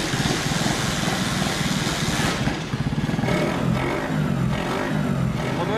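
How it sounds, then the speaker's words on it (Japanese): A custom complete car built in Japan with funnel-type intakes and internal air cleaners gives off a loud, close, rattling intake and engine sound that blips and revs unevenly throughout. "吸気音が多分聞こえてると思うんですけど、これはあの普通市販車というか普通じゃありえないそのファンネルタイプで"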